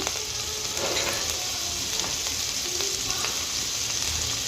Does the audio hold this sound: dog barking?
no